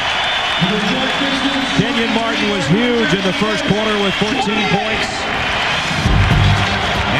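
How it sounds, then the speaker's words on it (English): Basketball arena crowd at a Nets home playoff game against the Pistons cheers steadily through the whole stretch, a broad sustained roar beneath a commentator talking almost continuously. "This crowd is psyched."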